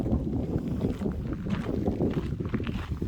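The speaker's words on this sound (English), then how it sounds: "Of course, getting up into wind." Steady wind blowing across the microphone at a hilltop overlook in Hallaway Hill, Maplewood State Park, Minnesota, a constant low rumbling buffet with no voices.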